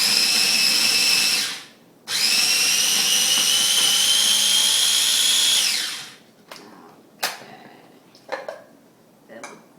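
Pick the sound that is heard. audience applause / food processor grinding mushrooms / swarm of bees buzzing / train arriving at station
food processor grinding mushrooms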